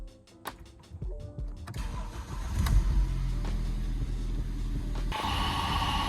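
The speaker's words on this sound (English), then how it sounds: "start the car, put it in probably second gear, let the wheels turn over and just see, well, listen for the noise" A BMW M Sport fires up after a brief electric whir, then idles and runs in gear with wheels turning, a steady low drone carrying a faint differential whine.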